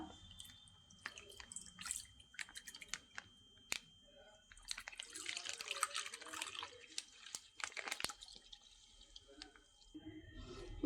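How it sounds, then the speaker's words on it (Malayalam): About 500 ml of milk is poured into a mixture in a pan, heard as a close, gurgling stream of liquid through the middle of the clip, with scattered drips and small handling noises before and after. "ഇതിലേക്ക് അഞ്ഞൂറ് എം എൽ പാല് ഒഴിച്ചു കൊടുക്കാം"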